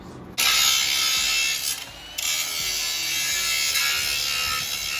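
An angle grinder runs against metal on a trailer repair, a loud continuous abrasive whine and hiss that briefly dips partway through, then resumes steadily to the end.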